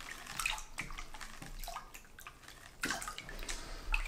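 Water sloshing and splashing in a gold pan during gold panning in Alaska, irregular close bursts of swishing and dripping with brief pauses between them, no voices.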